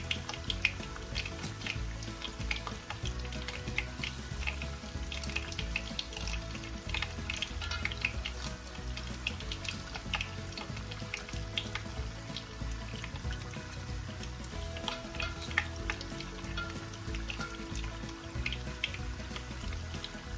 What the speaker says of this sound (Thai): เราจะทอดไปอีกสัก ป๊บหนึ่งนะคะ การใช้ไฟกลางถึงอ่อนนะคะ